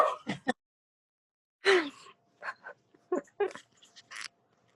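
Pet dogs make short yips, whimpers and gasping huffs in scattered bursts, close and fairly quiet, with brief pauses between the little cries.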